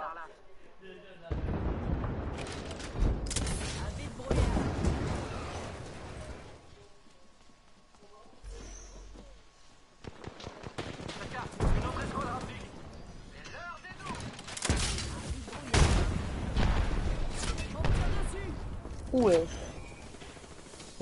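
Gunfire in the battle royale game Apex Legends crackles in scattered bursts and sharp reports, with occasional heavier blasts between quieter stretches, while people talk over it.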